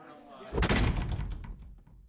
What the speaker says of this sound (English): The suddenness of the door slamming open stops any and all noise.